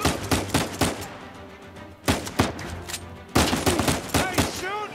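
Gunfire in the video game Uncharted 4: rapid bursts of shots in several clusters with sharp attacks and short pauses between, loud and close, with game sound effects mixed in around them.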